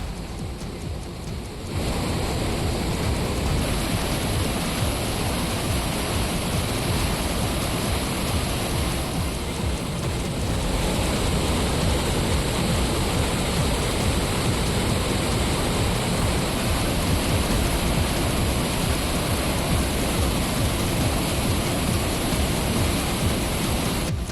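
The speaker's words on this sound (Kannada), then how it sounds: "ತುಂಗಾ ಜಲಾಶಯ ಭರ್ತಿಯಾಗಿದ್ದು ಜಲಾಶಯದ ಇಪ್ಪತ್ತೊಂದು ಗೇಟ್ಗಳಿಂದ ತುಂಗಾ ನದಿಗೆ ನೀರು ಬಿಡುಗಡೆ ಮಾಡಲಾಗ್ತಿದೆ" Water released from the full Tunga dam through its twenty-one gates into the Tunga river: a loud, steady roaring rush that continues unbroken throughout, with no voices.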